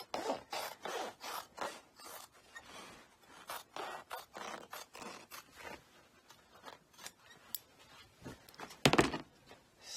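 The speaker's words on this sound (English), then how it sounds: "So cut off some of that fabric." Scissors cut through fabric while a flared skirt front is being draped, making a run of close, quiet snipping and rustling strokes in irregular bursts, with a sharper scrape near the end.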